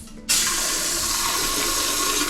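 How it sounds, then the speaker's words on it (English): A bidet sprayer in a Bangkok apartment bathroom bursts on after a short pause and sprays water hard and steadily into an ordinary toilet, a loud, close, continuous hiss. "Haven't tested the bum gun yet. Actually, let's do that."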